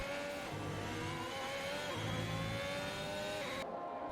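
An F1 2022 race car in a video game, its high-pitched engine whining steadily with slight pitch shifts through a turn, loud and continuous with no voices.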